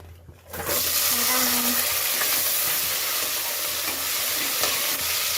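Mustard seeds and cumin sizzle in hot coconut oil, a loud, steady frying crackle starting abruptly and continuing evenly throughout, with faint popping.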